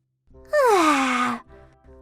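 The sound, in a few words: yawn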